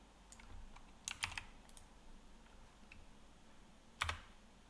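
A computer keyboard is typed on in short bursts of crisp key clicks, close and quiet against a soft background hiss, with brief pauses between keystrokes.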